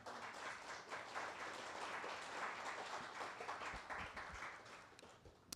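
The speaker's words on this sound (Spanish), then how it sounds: "¿Quién le puede dar un aplauso a Dios por eso?" Congregation applauding during a church sermon, a steady wash of many hands clapping at moderate volume that holds for several seconds and then tapers slightly.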